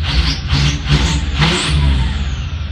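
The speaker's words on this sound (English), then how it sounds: "To rev it a little bit and throw some fuel." A car engine revs in short repeated bursts as extra fuel is thrown in, with suspected fuel injector problems; several quick throttle blips rise and fall over a steady close, loud running note.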